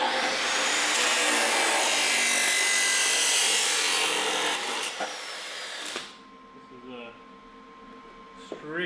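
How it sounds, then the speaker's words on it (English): Power saw cutting metal pieces for a cross kart's rectangular center-section enclosure: a loud, steady harsh grinding whine for about six seconds, then it cuts off, leaving quieter shop noise and a faint hum. "I'm gonna go ahead and cut those pieces to make our rectangle enclosure for our center section"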